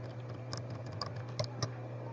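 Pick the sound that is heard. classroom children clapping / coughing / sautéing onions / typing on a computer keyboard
typing on a computer keyboard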